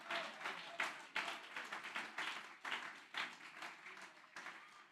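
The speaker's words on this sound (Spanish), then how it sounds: "Dele ese aplauso al Señor" Applause from a church congregation during a sermon, dense, lively clapping with rhythmic accents and surges, continuous and fairly close.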